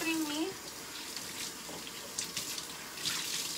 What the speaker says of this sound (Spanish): Está tirando un putero de agua